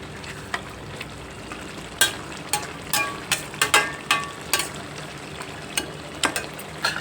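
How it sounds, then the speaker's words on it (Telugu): Andhra-style mutton fry cooking in a pan, a steady close sizzle of meat and spices broken by sharp scraping clicks of a spoon stirring against the metal at an uneven rhythm. "మటన్ ఫ్రై అండి ఇది, చాలా బాగుంటుంది."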